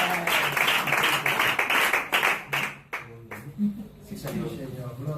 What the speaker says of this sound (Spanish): Pues venga, den el aplauso.